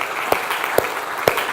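A church congregation applauds, a steady wash of clapping with a few sharp, louder claps standing out at regular intervals.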